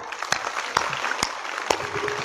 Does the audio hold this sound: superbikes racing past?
no